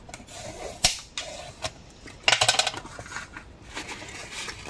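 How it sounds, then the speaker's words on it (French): Paper being folded and creased for a handmade scrapbook mini-album, giving sharp crackling snaps and scraping presses in short irregular bursts, close and fairly loud, with no voices. "Je marque bien mes plis à chaque fois."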